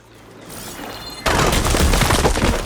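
Water surging through pipes after the flow is switched in Horizon Forbidden West, a quiet rising hiss that suddenly bursts into a loud, rough rushing roar and keeps going.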